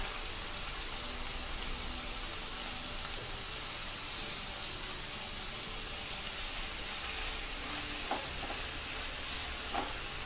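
Finely chopped onions and tomatoes sautéing in a pan, a constant soft hiss with faint crackles and a few light utensil taps, no talking.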